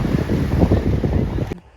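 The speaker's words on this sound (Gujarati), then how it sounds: "તો જો મોજું આવે છે, શું નજારો છે જો માધુપુર દરિયાનો" Sea waves wash in at Madhupur beach on the Gujarat coast. The surf makes a close, full rush under gusty wind buffeting the microphone, and it cuts off abruptly near the end.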